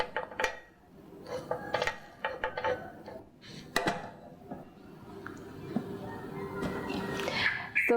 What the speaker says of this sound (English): I'm going to turn off the cooker and let's put it aside, but I will stir it first